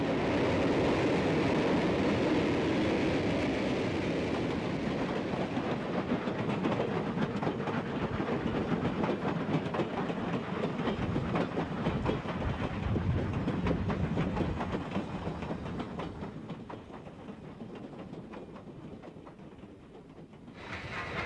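A Southern Pacific train rumbles steadily along the bay near Port Costa, a broad, continuous roar with faint clickety-clack that gradually eases and fades toward the end, with no voices.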